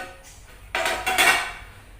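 Metal lid lifted off a pot of Thalassery chicken dum biryani, a short clattering scrape and clank up close in a quiet kitchen.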